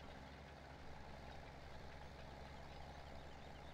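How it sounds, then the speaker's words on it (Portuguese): Tractor engine in Farming Simulator 17 making a strange noise: a steady, low droning hum that holds evenly throughout, fairly quiet and heard alone with no talk. "a impressão minha é esse trator tá fazendo um barulho meio estranho"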